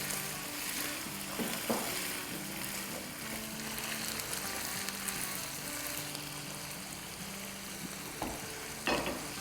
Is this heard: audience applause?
no